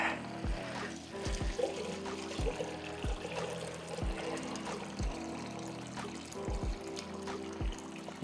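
Liquid mash recirculates through a home beer brewing system for a hazy IPA with oat milk, a steady close trickle and pour with repeated small splashing drops over a constant pump hum, no talking.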